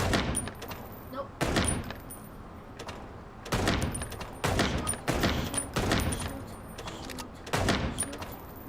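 Repeated gunshots in the Chicken Police video game crack out in an irregular series of sharp bursts, fairly loud and close, with a faint background tone between them.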